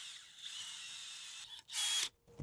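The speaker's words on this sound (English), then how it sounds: "I'm gonna try the auger." A garden auger is driven into bed soil for planting hydrangeas, giving a steady, fairly loud whirring drill tone with a brief louder burst near the end, no voices.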